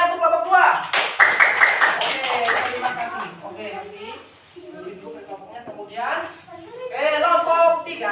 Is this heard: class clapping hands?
yes